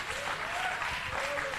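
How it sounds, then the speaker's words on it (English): Brief burst of audience clapping at a gathering, a dense, even patter of hands that stays loud and steady throughout, with no talk over it. "So we all clap for Salou for that level of tolerance."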